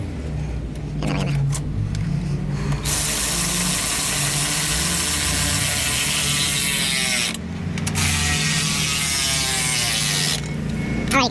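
Hand ratchet clicking as bolts are tightened on the exhaust of a truck with a Cummins ISX15 engine during DOC and DPF installation, bursts of rapid ratcheting near the start and end over steady mechanical and engine background noise.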